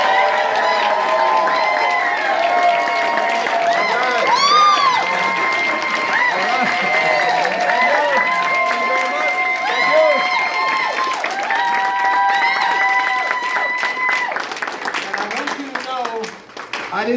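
A crowd at an evening event applauds and cheers for a host, with continuous clapping, whoops and raised voices layered together for a long, even stretch that thins slightly near the end.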